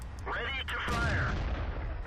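A World of Tanks tank cannon fires in-game, a single loud blast around the middle followed by a long rumbling decay, with a voice speaking just before the shot.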